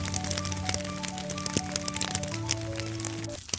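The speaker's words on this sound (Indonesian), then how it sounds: "Dimulai dengan rintik gerimis dan hujan pun deras mengguyur." Rain patters steadily on a mountain trail on Bukit Lincing, a dense crackling hiss of drops close by with no voices.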